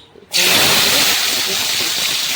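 Food dropped into hot oil for frying: a sudden loud hiss at the start, then a steady, dense sizzle close by that continues without a break.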